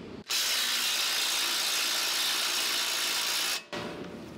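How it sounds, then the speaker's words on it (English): Impact wrench driving a 27 mm socket on a bolt while fitting a rear shock mount guard to a 2021 Ford Bronco, a loud, continuous rattling hammer burst of about three seconds, very close, then a brief quieter tail. "use the impact with a 27"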